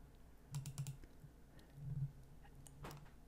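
Light mouse clicks on a computer in ATLAS.ti qualitative analysis software, a few quick clicks in small clusters followed by another pair, close and faint against a quiet room.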